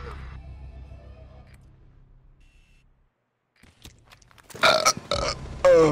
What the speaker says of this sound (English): I'm gonna burp.